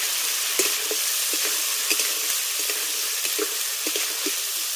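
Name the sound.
live singhi fish frying in spices in a pan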